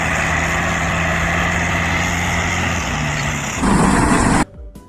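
A toy mining truck gives off a steady engine rumble, close and loud, that shifts to a rougher, heavier tone near the end before stopping suddenly.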